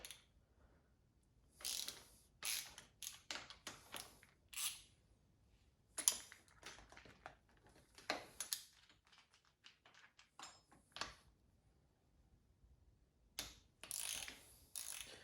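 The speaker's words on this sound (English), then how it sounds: "I'm going to start loosening the triple tree for the throttle side to get the fork loose" Ratchet loosening triple tree bolts on a Suzuki DRZ400SM motorcycle, quick clicking pawl bursts and metallic turns, faint and intermittent with pauses between strokes.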